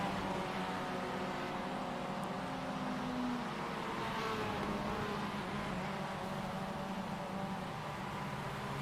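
Mustang race cars lapping Watkins Glen in iRacing, a continuous droning engine roar with steady high-revving tone and no gaps, fairly close and unbroken for the whole stretch.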